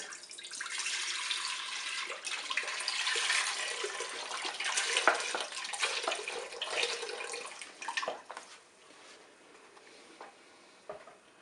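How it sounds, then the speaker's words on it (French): Milk is poured into the bowl of a Cookeo multicooker, making a soft, continuous splashing pour for several seconds that tapers off into a few faint drips and quiet clinks. "On verse tout simplement le lait dans la cuve."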